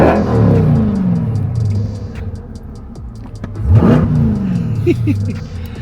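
A Liberty Walk Corvette engine revs and accelerates hard through gear changes, roaring close by while people talk and laugh over it.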